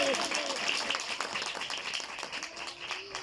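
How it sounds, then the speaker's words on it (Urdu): A church congregation bursts into loud, dense clapping for the word of God during a pastor's sermon on healing, with voices calling out over the steady applause throughout. "خدا کے کلام کے لیے زوردار تالیاں بجائیے گا۔"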